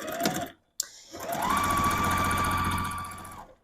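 A domestic sewing machine runs steadily for about two seconds as quilt blocks are chain pieced, after a brief earlier burst of stitching and a pause; loud, close and alone.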